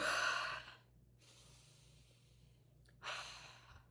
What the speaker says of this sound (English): you can see that I yawn a lot